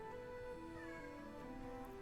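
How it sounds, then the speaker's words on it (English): A house cat meows loudly nearby in a drawn-out, wavering call with rising and falling pitch. It repeats over a quiet room-tone background, with no talking. "Yes, loud cat."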